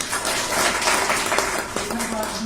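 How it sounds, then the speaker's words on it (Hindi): Audience applause at a Hindi language day event, a broad wash of clapping that swells and fades, with a voice speaking near the end. "ताली है तो बजाओगी।"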